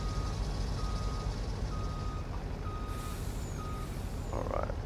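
A truck in a video game sounds steady reversing beeps, evenly spaced electronic tones over a rumbling idling engine, with a brief hiss like an air brake near the end and no talk.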